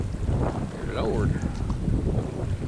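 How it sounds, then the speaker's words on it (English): Wind rushes steadily across a fishing boat on open water, a continuous low buffeting roar against the microphone with no talk. "This wind is getting up there."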